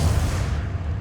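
A Bombarda spell blast in the Hogwarts Legacy video game, a loud, deep booming explosion that rumbles and slowly fades over about a second.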